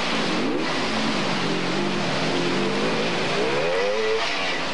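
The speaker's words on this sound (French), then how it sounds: "Eddy Lejeune sur sa moto Merlin, une moto espagnole" Spanish Merlin trial motorcycle engine at a 1986-era classic trial event, revving in rising and falling bursts, loud and continuous over outdoor noise.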